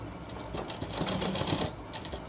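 A sewing machine stitching a shirt, a short fast run of rhythmic mechanical ticking that speeds up in the middle and then slows, close and steady, with no talking.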